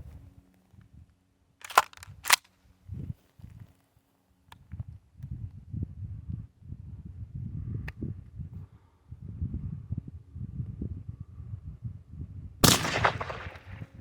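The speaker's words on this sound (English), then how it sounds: "I'm gonna shoot it with a slug, and we're gonna see what happens." Shotgun slug striking a slab of thick black granite, 1.5 to 2 inches thick: a single sharp, loud blast near the end, preceded by quiet handling clicks and low rumbling noise.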